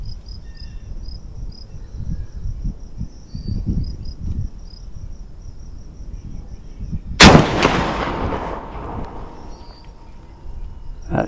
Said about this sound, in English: That shot a little bit lower.